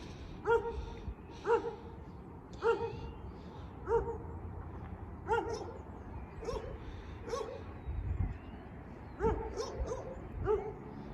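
Dogs bark in sharp, separate bursts at irregular intervals, fairly close, over a low rumbling background at a railroad crossing.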